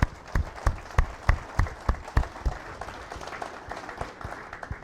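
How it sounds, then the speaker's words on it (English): At a woodworkers club meeting, an audience claps for a work crew, uneven claps from a small group in a room, fading toward the end. "So I think Bill and his crew deserve a great round of applause for what they've done."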